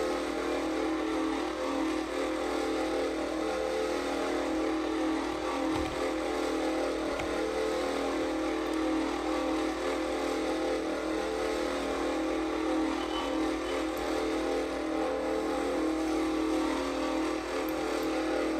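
A car engine in a video game world drones steadily with a constant low hum and mechanical whine, holding an even level without clear revs, alone with no talking.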